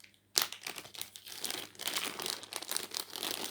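Close crinkling of a plastic bag holding a half-finished bead bracelet on elastic cord, with a sharp first rustle and then continuous soft crackling and handling.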